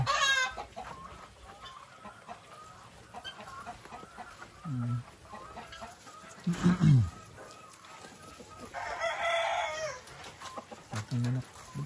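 Chickens cluck and squawk intermittently nearby over a steady background hiss, with a short low vocal burst now and then.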